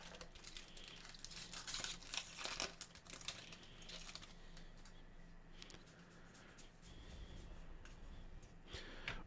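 Magic the Gathering collector booster pack wrappers crinkle and tear in soft, close bursts of rustling, followed by quieter handling and a brief crackle at the end.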